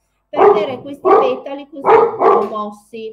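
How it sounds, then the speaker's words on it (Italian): A dog barks in several short bursts close by, mixed with someone speaking Italian during a live craft tutorial on making petals. "Scusate il cane."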